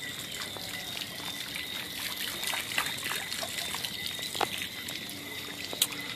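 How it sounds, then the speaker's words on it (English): Continuous trickling and splashing of a water fountain at the Sandals Whitehouse resort, moderately distant and soft, with a few sharper splatters rising above the steady wash of water. "Water fountains throughout the greater area."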